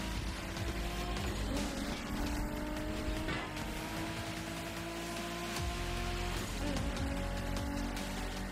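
A car drifts in The Crew Motorfest, its engine droning continuously with whining tire noise layered over a steady low rumble, without pause.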